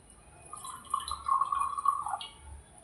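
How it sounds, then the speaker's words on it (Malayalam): Warm water trickles and splashes into a container for a couple of seconds, a soft close pour that swells in the middle, then tapers off. "തൊടാൻ പാകത്തിലുള്ള വെള്ളം ഒഴിച്ചു കൊടുക്കാം"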